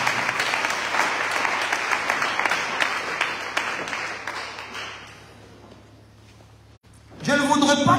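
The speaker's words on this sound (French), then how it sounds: "Quelqu'un acclame très fort pour m'encourager." An audience applauds and cheers loudly for several seconds, then the sound thins and fades. A voice starts speaking near the end.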